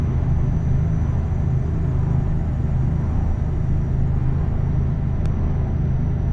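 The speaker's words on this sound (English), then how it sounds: "Try not to tip this truck over." Heavy truck engine in Euro Truck Simulator 2, a steady low drone and road rumble while driving through Portugal, continuous and fairly loud with no talk.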